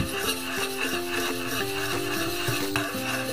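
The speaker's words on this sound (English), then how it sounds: "add it to the coconut sauce and keep stirring it gently until the coconut sauce is get a bit thick" Coconut sauce thickened with rice flour being stirred gently in a pot, a steady soft scraping and swishing with faint utensil clinks, close and continuous.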